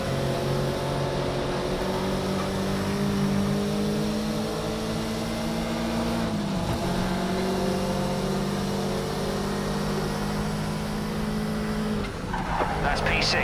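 Race car engine droning steadily in Project CARS 3 racing game, with a sustained tire squeal and a brief pitch dip around an overtake, loud and continuous throughout, with a voice talking over it.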